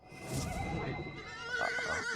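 A horse in the fantasy game Dungeons & Dragons Online gives a loud, close whinny that wavers in pitch and tails off, with no talk over it.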